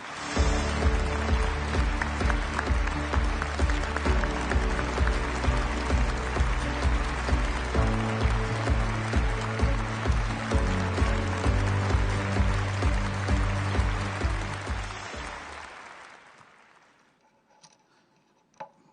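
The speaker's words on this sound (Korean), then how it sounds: "여러분 큰 박수로 맞이해 주시기 바랍니다" Crowd at a Korean lecture event on New Unification Korea welcomes lecturer Jin Seong-bae with long, sustained applause over background music, holding steady for about fifteen seconds before fading away to near silence.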